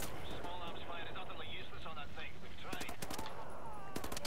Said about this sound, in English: I do like this gun though. Fires very fast.